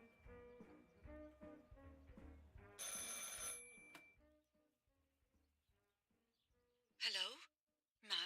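Telephone ringing in the video game Martha is Dead, a shrill bell burst of about a second amid a soft musical score, followed by a later sharp burst.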